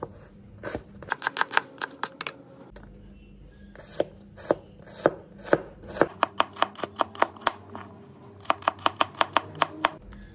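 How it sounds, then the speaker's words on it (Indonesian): A knife chops shallots steadily on a board, in quick bursts of sharp taps with brief pauses between runs, close and clear. "Bawang merah kita pun potong pakai goreng ikan"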